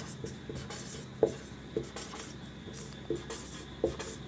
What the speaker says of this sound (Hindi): चलिए इसी चीज़ को हम लोग लिखते हैं